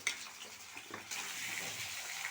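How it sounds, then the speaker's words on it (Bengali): Pumpkin pieces frying in oil with cumin seeds and dried red chillies give off a steady, moderately quiet sizzle that swells slightly partway through and holds to the end. "কুমড়োটা লাল লাল করে ভাজা হয়ে গেছে"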